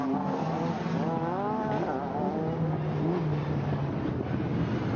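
Lancia Stratos rally car driven by Ben Mellors accelerating uphill on the Goodwood SpeedWeek rally stage, its engine note rising through the gears at steady volume, with continuous roaring revs.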